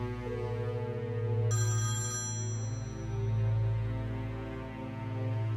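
A telephone rings once with a brief electronic chirp, fairly faint and sitting over a steady low musical hum with no voices.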